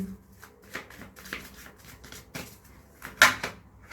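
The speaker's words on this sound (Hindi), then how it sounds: "2 कार्ड्स मैं इस डेक में से लूंगी।" Tarot cards drawn and handled from a deck at close range, a run of soft papery slides and flicks ending in a louder snap near the end.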